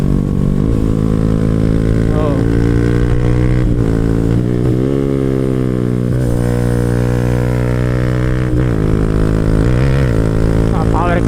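A Yamaha Sniper 155 motorcycle engine roars loud and close while riding, its steady harmonic drone rising and falling in pitch as the rider revs and shifts, with a voice talking over it.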